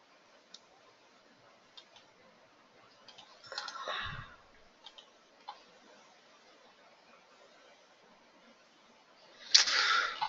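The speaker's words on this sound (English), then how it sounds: "I'm trying to click on it and I can't do it." A computer mouse clicks several times, sparse and faint, in a quiet room, with a brief rustle midway and a louder burst of noise near the end.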